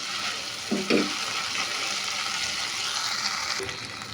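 Prawns fry and sizzle as they are sautéed for a Bangladeshi chingri malai curry, a steady close hiss punctuated by a few quick stirring scrapes early on and another near the end.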